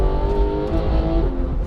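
A Porsche engine growls loudly up close with a deep, rich, race-car tone, rumbling and revving steadily for under two seconds with no voices.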